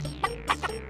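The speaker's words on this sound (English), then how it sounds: "When the rooster crowed" Rooster in an animated fairytale giving a few short, clipped calls, three or four quick bursts within one second, close and clear.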